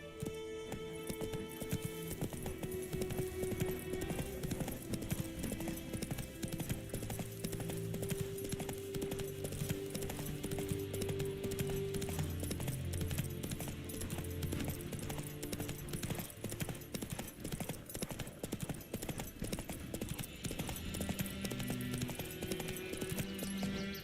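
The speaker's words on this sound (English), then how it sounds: "Run, Roach" A horse gallops in the video game The Witcher 3, hooves drumming in a rapid, continuous clip-clop under a layer of game music and ambience, steady and fairly quiet throughout.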